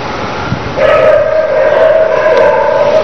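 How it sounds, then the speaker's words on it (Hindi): Dogs bark and yelp in the distance, several animals at once, steady and continuous under faint background noise. "एकदम जानवर बहुत आसपास भौंकना शुरू हो गए, जैसे घेर लिया गया हो।"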